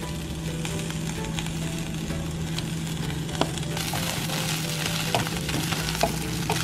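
Precooked brown rice stirred into smoked pork ribs frying in a pan, a steady dense sizzle throughout with occasional faint scrapes and clicks of the utensil, no voices.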